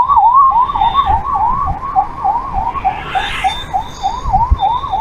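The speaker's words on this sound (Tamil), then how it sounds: "ஆம்புலன்ஸ்லாம் வழி விட்டுறணும்" An ambulance siren wails on the road in a steady rising-and-falling yelp, loud and close, over the rumble of a moving vehicle's traffic noise.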